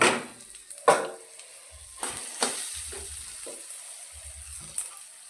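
Green chillies and crushed garlic fry in hot oil with a steady broadband sizzle, broken by a few sharp spatter bursts and scraping touches from a stirring utensil, close and moderately loud with no talking.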